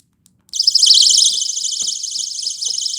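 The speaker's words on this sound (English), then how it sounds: "that is a panic alarm" A shrill, piercing personal panic alarm bursts on suddenly and keeps warbling continuously at a loud, steady level after a brief quiet start.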